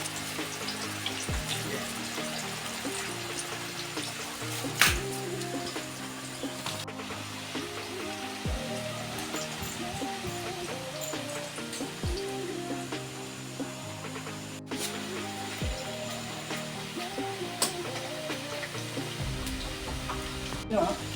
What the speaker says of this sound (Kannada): ಈಗ ಎಣ್ಣೆ ಕಾದಿದೆ. ನಾವು ಬಟ್ಟೆಯಲ್ಲಿ ಈ ಪಸೆ ಹೋಗಲಿಕ್ಕೆ ಬೇಕಾಗಿ ಬಟ್ಟೆಯಲ್ಲಿ ಹಾಕಿಟ್ಟಿದ್ದ ಈ ಬಾಳೆಕಾಯಿ ಚೀಸನ್ನು ಬಣಲೆಗೆ ಹಾಕುವ.